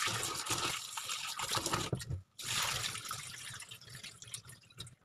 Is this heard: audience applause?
no